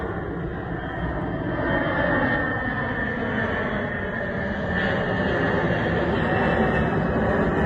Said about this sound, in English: we could hear the plane